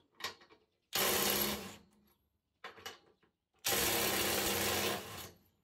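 A DeWalt DCF 850 cordless impact wrench loosening a bolt: two loud, sustained hammering bursts of about a second each, separated by brief clicks and handling noise, with no talking.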